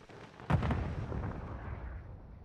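A trap detonates in a Call of Duty multiplayer match, a single heavy boom that fades into a long, low rumbling tail, fairly faint overall.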